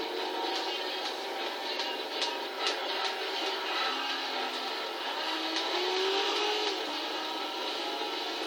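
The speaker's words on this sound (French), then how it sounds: "c'est que des grosses cylindrées qui roulent" Big-engine cars racing in the video game Gran Turismo 6, a steady blended engine roar with shifting pitch and occasional higher whines, continuous throughout, no talking.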